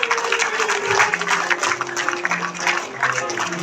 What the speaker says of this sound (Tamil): நல்ல கைத்தட்டல் கொடுக்கலாம்